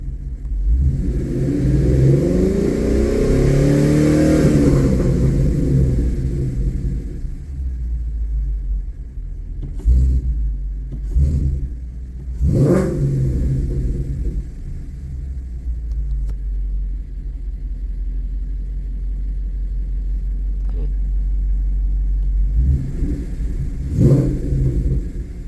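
A car engine revs hard at wide open throttle on a test drive, a loud rising roar early on, then a steady low rumble with several short throttle blips, heard from inside with no talk.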